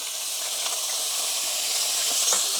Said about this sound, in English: A medium heat, you can hear the sizzle